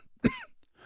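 A single sharp, harsh cough bursts out once and stops, performed by a narrator voicing a sickly man in a damp wine cellar.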